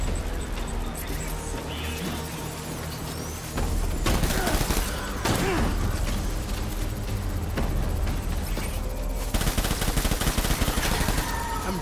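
Bursts of gunfire in a Death Stranding warzone boss fight, rapid automatic volleys and sharp shots that flare and drop across the stretch, loud and close with brief lulls between.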